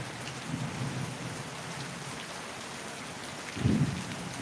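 Steady heavy rain hisses throughout an April thunderstorm in Kudal, Sindhudurg, Konkan, with low rumbles of thunder near the start and a louder thunder crack toward the end.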